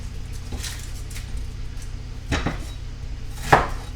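A knife cutting the base off an onion on a board, a few sparse soft chopping knocks with one sharper cut near the end, close over a steady low kitchen hum.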